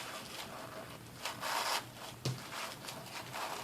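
Soft, close rustling and rubbing as a ribbon is tied into a small bow for a New Year's Eve party favor, with a few slightly louder swishes and a sharp tug near the end.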